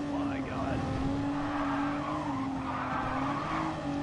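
Tires squeal and skid under hard braking as Nissan Nismo race cars run in Gran Turismo Sport, with wavering squeals over a steady, droning engine tone.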